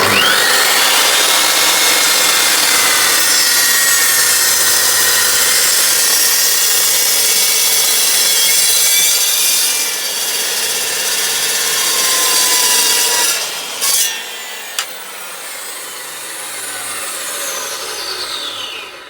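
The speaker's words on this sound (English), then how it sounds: "So they're alright, these chop saws, but you do end up with a lot of swarf to clear up." Chop saw cutting through solid wood in a shed workshop, a loud continuous rasping cut that runs steadily for most of the stretch, with a few brief sharp knocks near the end and no talk.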